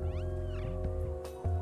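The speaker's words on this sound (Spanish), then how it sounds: "Claro, cuando maullas, vienen." A cat meows in the video game Stray, with several drawn-out, wavering calls close and clear over a steady hum of game background sound.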